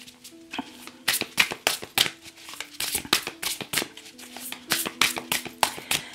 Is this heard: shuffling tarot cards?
yes